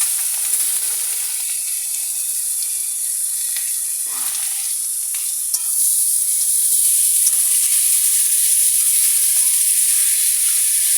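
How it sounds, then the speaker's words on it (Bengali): Onion, ginger and garlic fry in a pan with a steady, close, bright sizzle and soft hiss that stays even throughout, lifting slightly midway, with faint stirring scrapes and no talk. "পেঁয়াজটা ভাজলি আদা রসুনটা দিলি তারপরে আদা রসুনটা একটুখানি ভাজলি"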